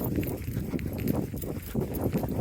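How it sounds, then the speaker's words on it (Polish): Horse hooves pound out a steady, fast galloping rhythm on a trail through hills around Mutatá, Colombia, close and continuous with no talk. "Dominika już zeszła w galop."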